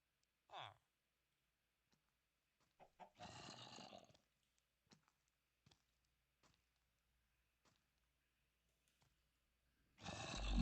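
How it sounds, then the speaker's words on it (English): A Minecraft chicken gives a few faint, sparse clucks in quiet modded gameplay, each short and widely spaced, with long silent gaps between them. "That's a chicken."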